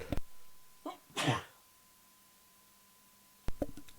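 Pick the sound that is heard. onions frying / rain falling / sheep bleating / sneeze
sneeze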